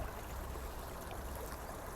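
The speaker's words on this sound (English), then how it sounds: "Just see the water over there pouring out." Water pouring from a leak along a foreshore, a steady, faint rushing trickle heard at a distance with no voices.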